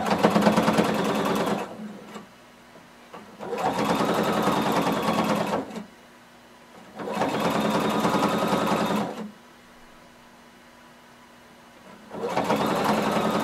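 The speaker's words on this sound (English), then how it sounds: "And I'm going to stitch close to the edge all the way around." Sewing machine stitching close to the edge around pant legs, in four loud, even bursts of rapid whirring separated by short pauses, close up and alone.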